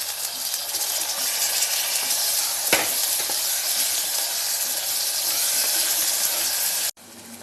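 Onions and tomato frying in a pan for mutton keema cutlets, a steady close broadband sizzle throughout with one sharp clatter near the middle, cutting off abruptly just before the end.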